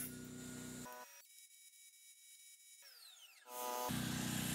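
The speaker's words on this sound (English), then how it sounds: "what I'm doing here is squaring up just one side of each of the planks" A power tool cutting pallet planks square, a loud steady whine that drops out for a couple of seconds as the motor stops and spins down, then starts up again.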